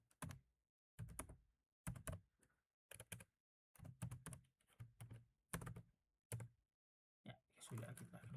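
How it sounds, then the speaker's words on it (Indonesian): Keystrokes on a computer keyboard while typing into a terminal, quiet bursts of clacking taps in short groups separated by silent gaps, close and fairly faint, with some murmur at the end. "Pertama saya akan mengetik ini."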